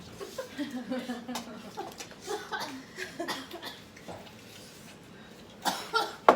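Several short coughs come from a person at a Thanksgiving family gathering, scattered among nearby chatter and light laughter, with a louder cluster of coughs near the end.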